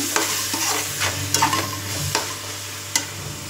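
Vanjaram fish pieces fry in masala in a pan while being stirred, giving a close steady sizzle broken by several sharp scrapes and knocks of the spoon against the pan.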